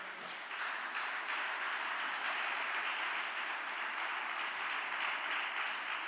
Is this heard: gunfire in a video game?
no